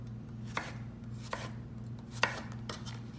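A knife slices zucchini into rounds on a cutting board, four crisp, well-spaced chops at an unhurried pace, close and fairly quiet over a faint low background hum.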